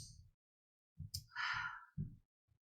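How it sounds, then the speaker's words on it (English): A person takes a deep breath: a few soft low breathy sounds, then a clear drawn-in airy inhale up close, fairly faint and brief. "Everybody smell, like taking a deep breath."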